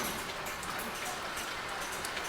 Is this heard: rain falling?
yes